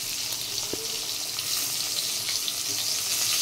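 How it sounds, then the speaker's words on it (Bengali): Six slices from a single brinjal fry in hot oil in a pan, giving a steady, close sizzle with crackling spits throughout and no talk. "দাঁড়াও বেগুন ভাজাটা ছেড়ে নিই"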